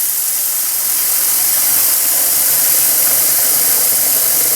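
Hot tap water pours into a pot being filled for noodles, a steady, loud, unbroken rushing hiss throughout.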